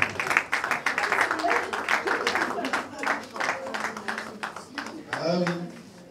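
At an award ceremony for artists and comedians, an audience breaks into applause, a rapid patter of clapping from a crowd that runs under a speaker's voice and is followed by more talk near the end.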